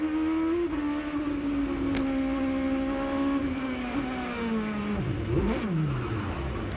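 A loud, steady high-pitched IndyCar engine whine holds near constant at Sonoma, then wavers and dips near the end as the car slows and spins.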